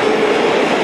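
A train passes close by at speed in Dayton, a loud dense rumbling roar with a faint steady tonal hum through the whole short stretch, no voices.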